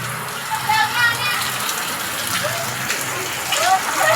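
Heavy rain hissing down with a broad wash of noise during flooding, while voices chatter and call out faintly throughout.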